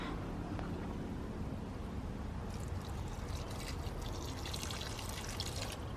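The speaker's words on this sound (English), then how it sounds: "Normally definitely water the star jasmines." Water pours steadily onto flowering star jasmine plants, a continuous hissing splash with fine trickling, heard close and without talk.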